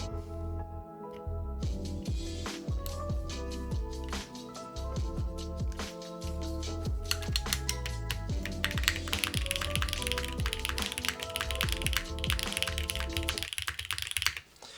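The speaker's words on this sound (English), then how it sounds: "I like the whole keyboard right now, sound-wise." Fast, steady typing on a Keycult No. 3 aluminum mechanical keyboard, the keys clacking close and clean with a denser flurry of strokes toward the end, no voices.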